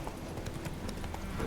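Roach the horse gallops in The Witcher 3, giving a steady rapid clip-clop of hooves over a low rumbling background. No voices are heard.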